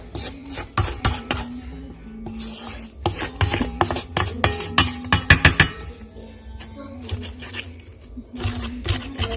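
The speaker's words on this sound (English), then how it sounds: "So I'm gonna scrape down the sides." A spatula scrapes down the sides of a mixing bowl of banana bread batter, with rough rubbing strokes and clinks against the bowl that come in bursts, close and fairly loud.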